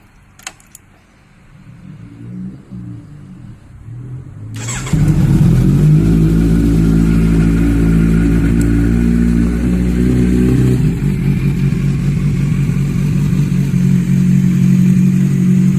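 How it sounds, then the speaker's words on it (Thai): A 2017 Kawasaki Z900 SE ABS motorcycle engine starts after a brief rattle and settles into a loud, steady idle with a deep throbbing rumble, close by. "สำหรับแซด900คันนี้เสียงเครื่องปกตินะครับ"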